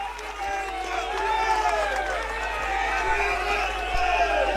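A large crowd at an Aam Aadmi Party Foundation Day rally in Delhi claps and cheers steadily to welcome Arvind Kejriwal, a broad continuous roar with distant voices and whistles mixed in.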